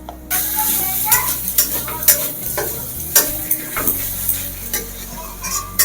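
Spices for a Bengali red chicken curry, with garlic, sugar and Kashmiri and hot chilli powder, sizzle steadily in a pan while a spoon scrapes and stirs in repeated clattering strokes close by.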